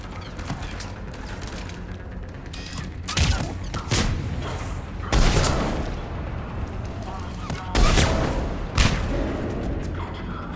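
Heavy mortar blasts and crackling gunfire in a Mass Effect 3 battle against Cerberus forces, dense and continuous, with several big booming impacts standing out from the din.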